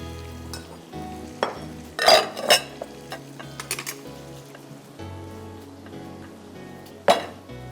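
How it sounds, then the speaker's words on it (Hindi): Koyla chicken karahi fries in a pan with a steady hiss and sizzle, broken by metallic scrapes and clinks of a spatula against the pan, close and moderately loud. "दो मिनट इसको मैं फ्राई करूँगी।"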